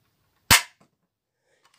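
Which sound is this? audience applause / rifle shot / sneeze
rifle shot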